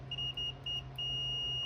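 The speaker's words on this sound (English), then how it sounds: "got my continuity meter, and just to show you, it'll beep when we connect the two" A continuity meter gives a steady electronic beep, first in three short bursts and then one continuous tone, as its two probes touch during a 2017 Yamaha Viking light bar install. A low hum and idle rumble sit underneath.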